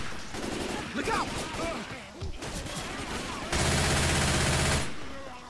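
Gunfire in Left 4 Dead 2, a dense burst of rapid shots that rises into a sustained loud volley near the end, mixed with game effects and some talk.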